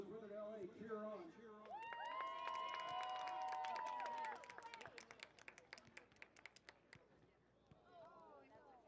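A crowd at a youth soccer match claps and cheers, with a sustained shout followed by a run of sharp, irregular handclaps that thin out, and voices calling over it.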